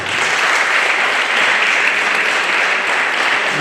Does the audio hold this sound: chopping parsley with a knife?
no